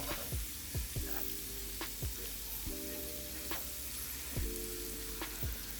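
Garlic stirred in a pan over low heat with a spatula or spoon: a steady soft sizzle with repeated scraping strokes of the utensil against the pan, close up with no talking.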